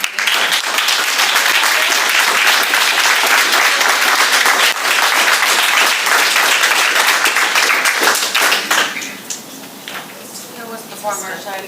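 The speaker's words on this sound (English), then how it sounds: "You're delaying the meeting by clapping." An audience claps at a school board meeting, loud, sustained applause from many hands that thins out near the end into scattered claps.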